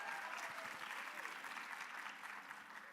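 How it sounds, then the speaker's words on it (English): Sustained audience applause at a PoshFest 2024 conference session, a dense, steady wash of many hands clapping together that holds at full strength throughout. "Let's give everyone a round of applause."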